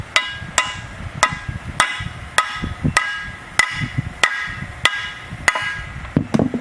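Hammer blows drive an aluminum water nipple tip into place on a Mopar part: about ten sharp, evenly spaced metallic strikes, close and loud, each with a short ring.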